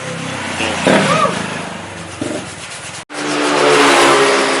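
A Honda CBR250RR engine close up through an R9 H2 titanium exhaust with carbon end cap, blipping the throttle twice, dropping out for an instant, then holding a loud, raspy high rev.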